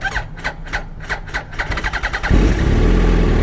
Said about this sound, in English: just when the bike is warm, it'll do that kind of cranking